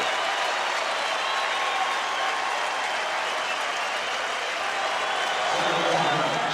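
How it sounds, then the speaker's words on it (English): Baseball crowd at an Orioles road game against Atlanta gives Cal Ripken a standing ovation, a steady wash of applause and cheering from a large stadium audience, evenly sustained with a slight swell near the end. "he is getting an ovation from the enemy crowd, and many stand"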